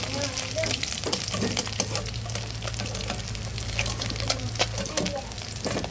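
Puti fish frying in oil in a wok, a steady broad sizzle with crackling and spatter all the way through, up close and fairly loud, with occasional scraping from a utensil.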